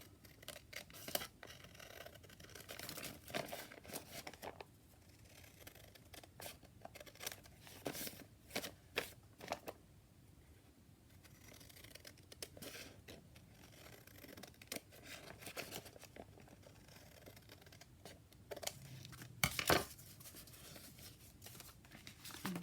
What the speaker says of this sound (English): So all I would do now is cut off the edges.